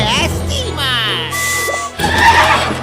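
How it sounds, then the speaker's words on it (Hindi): A cartoon robot horse gives a loud, wavering whinny followed by a short electronic tone, with a child-like voice speaking over part of it. "इसलिए तुम्हें चाहिए एक रोबोट घोड़ा"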